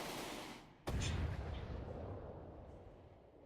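A single cannon shot in the naval combat game From the Depths booms loudly, a sharp blast that rolls into a long, rumbling decay over several seconds.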